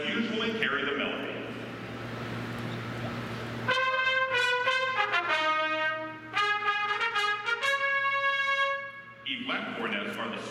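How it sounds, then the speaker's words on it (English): Second cornets of the Ohio State marching band playing their part of a fight-song arrangement in concert: a bright sustained brass line of held and stepping notes, loud and clear for several seconds, with speech before and after. "Second cornets have this voice in our arrangement."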